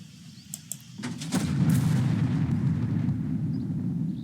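Artillery fire in the Second Front war game: a couple of sharp reports, then a loud sustained booming rumble that rolls on without a break.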